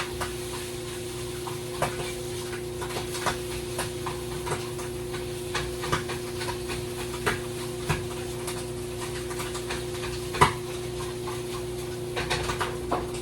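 Eggs cook in a pan for breakfast wraps with a soft, steady sizzle, punctuated by light taps and scrapes from a utensil at irregular intervals.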